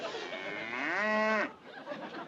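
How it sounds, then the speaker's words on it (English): A single long cow moo, loud and close, rising then holding steady for over a second before cutting off, followed by faint room sound. "Oh, hello, Bossy. A bossy cow"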